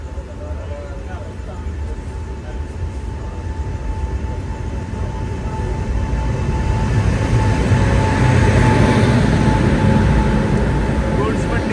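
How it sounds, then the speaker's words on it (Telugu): A train passes on the adjacent track beside a halted train on the Visakhapatnam to Prayagraj weekly special, a steady rumble building louder toward the end, with no voices over it. "పక్క ట్రాక్లో ఒక ట్రైన్ వస్తుంది."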